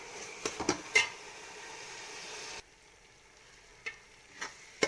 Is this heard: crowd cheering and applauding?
no